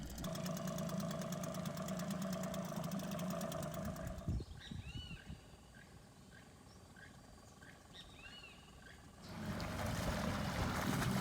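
A dinghy's outboard engine hums steadily while trolling on the water, loud at the start, then dropping away under bird calls and water sounds before the motor drone returns near the end.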